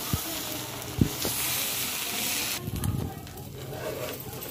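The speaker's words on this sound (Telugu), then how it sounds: "ఈ పిండి చిన్న దోశ వేసుకోవాలి." Small dosa of carrot and poha batter sizzling on a hot pan, a steady faint frying hiss with a couple of sharp ticks near the start, no voices.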